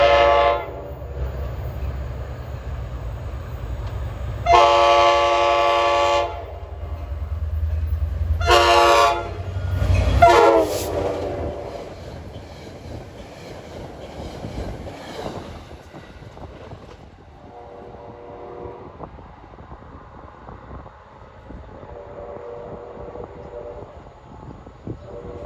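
NJ Transit train led by a GP40FH-2 locomotive passing at Ramsey, sounding several loud horn blasts early on over the engine roar, then the rumble fading as cars roll by with fainter horn notes later.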